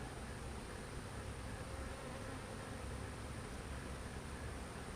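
A large swarm of honeybees fanning, a dense, steady buzzing hum that fills the whole clip at close range with no talk over it.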